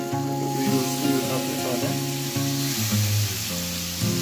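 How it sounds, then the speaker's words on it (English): Seasoned jerk pork sizzling on an indoor grill, a steady close hiss and crackle of frying meat running without pause, with a faint hum beneath. "So I have the pork on the grill now."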